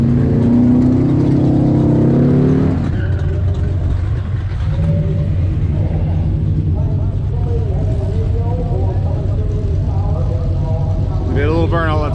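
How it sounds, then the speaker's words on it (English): An AMC drag car at a national AMC drag racing event does a short burnout on a slick lane, its engine roaring loud and steady throughout, rising in pitch at the end, with people talking over it. "We did a little burnout."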